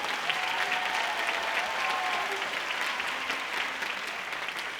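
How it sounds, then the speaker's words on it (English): A crowd at a tenth anniversary show claps steadily and evenly for a few seconds, a continuous wash of many hands, with no voices heard over it. "Yes, clap for them, they're amazing."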